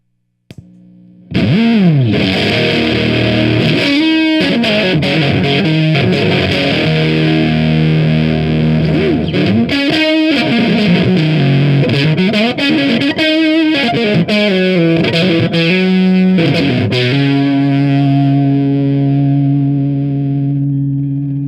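Electric guitar through a 1954 silicon fuzz pedal with the volume turned all the way up: thick, saturated fuzz with bends and sliding notes, loud and close, ending on long sustained chords that ring out.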